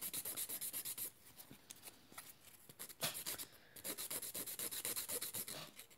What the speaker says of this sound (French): je vais limer mon extension